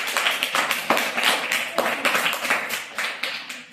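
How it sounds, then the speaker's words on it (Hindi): Children in a classroom riddle game clap together in a loose, uneven burst, several distinct sharp claps standing out over a ragged patter that fades toward the end. "तालियां जल्दी लगाओ"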